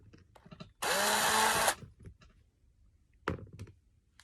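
Small power drill bit boring through a doll, one loud whirring burst of under a second with a rising motor whine, close up, followed by quiet handling clunks and a brief knock.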